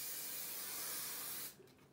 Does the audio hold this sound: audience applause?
no